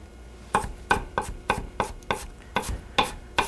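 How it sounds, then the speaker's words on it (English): Vegetables being finely chopped for mini egg rolls, about ten sharp knife-on-board thumps in a steady, slightly uneven rhythm, close and alone with no voices. "I want to make sure these are chopped up well enough that they'll give me nice egg rolls."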